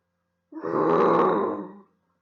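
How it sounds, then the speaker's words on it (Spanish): A polar bear lets out one deep, rasping roar lasting over a second, loud and close, rising quickly and fading off into silence. "Rugió el oso."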